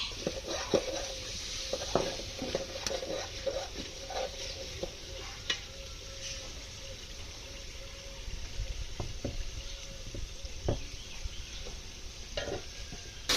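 Masala spices being fried and stirred in a pan before meat goes in, a soft continuous sizzle with scattered light spoon scrapes and taps, fairly quiet and close throughout, no voices.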